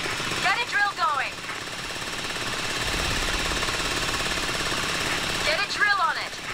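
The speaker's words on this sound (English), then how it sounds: "Get a drill going." In Payday 3, a drill grinds continuously against a heavy door with a steady, rattling mechanical whir, while brief chirping electronic sounds cut in near the start and end.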